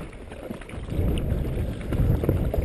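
Paddle strokes from a Sea Eagle FastTrack 385ft inflatable kayak crossing Setauket Bay, with soft water splashes building in a loose rhythm over a steady rush of wind against the microphone.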